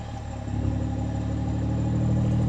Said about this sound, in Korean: M340i의 순정 배기음